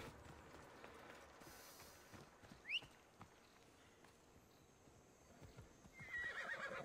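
A horse whinnies faintly in Assassin's Creed Odyssey amid soft clip-clop hoofbeats and quiet background ambience, the neigh brief and fairly distant.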